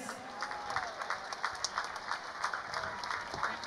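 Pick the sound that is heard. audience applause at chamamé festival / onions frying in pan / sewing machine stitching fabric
audience applause at chamamé festival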